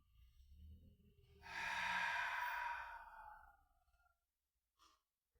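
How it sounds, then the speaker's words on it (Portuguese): A person doing a Kriya yoga breathing exercise takes a short, quiet inhale through the nose, then lets out one long, full exhale through the mouth that fades away. A faint breath follows near the end. "Puxa só um pouco pelo nariz e aí solta todo o ar com a boca."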